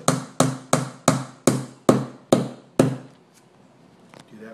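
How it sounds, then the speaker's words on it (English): A small brad nail is driven with a hammer through a drilled hole into a lamp shade hoop: eight sharp, evenly spaced taps close to the mic, then a quiet pause with a faint knock or two. "And using the drill hole as a guide, you just put the nail in."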